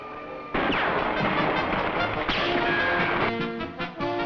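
Cartoon gunshots ring out at a carnival shooting gallery, a loud burst of rapid, overlapping shots that keeps going for several seconds with hardly a break, then trails off near the end.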